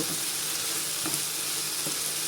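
Chicken curry with coconut milk sizzles steadily in a pan, a constant dense hiss with a couple of faint soft knocks, close and even throughout with no voices.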